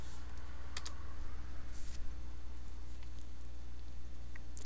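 A short burst of computer keyboard typing in a quiet room, a few quick separate clicks against a steady low electrical hum, close and fairly faint, with no talking.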